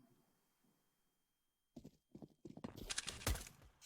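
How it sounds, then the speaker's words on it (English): Footsteps on Counter-Strike's Overpass map come in after near silence, a run of close, muffled thuds building into quick steps with some gear clatter. "Oh, he hears the footsteps"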